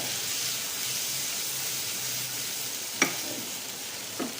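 Maggi noodle ingredients frying in a pan give a steady soft sizzle and hiss, with two brief utensil knocks near the end and no voices.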